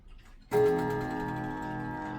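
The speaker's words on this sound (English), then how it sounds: "That's probably the biggest coil gong I've ever handled and seen in my life, but it's very cool sounding." A large coil gong in a German flat top grandfather clock is struck once, giving a sudden bright metallic strike with a long, slowly decaying ringing tone.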